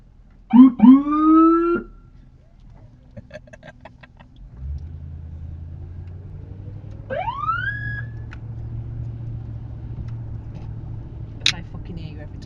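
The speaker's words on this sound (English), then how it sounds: "Siren test." An American police car siren being tested on a UK road, with short loud rising wails and yelps at the start and again midway, over steady engine rumble and nearby talk.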